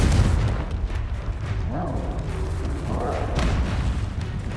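Confringo fire spell blasts and combat in Hogwarts Legacy, deep booming bursts and rumbling impacts over a constant low roar, with brief whooshing spell sounds rising mid-clip.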